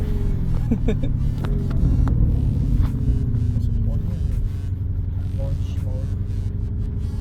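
A Lamborghini Urus with its twin-turbo V8 runs nearby, a steady low rumbling hum, with people talking over it throughout.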